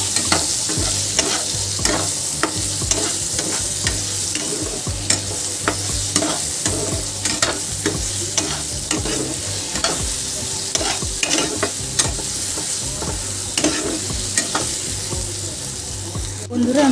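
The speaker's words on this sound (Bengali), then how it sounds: "বেগুনটাকে হালকা করে আমি ভেজে নেব" Eggplant pieces frying lightly in hot oil, a constant close sizzle with crackles, sharp pops and repeated stirring scrapes, with no voices over it.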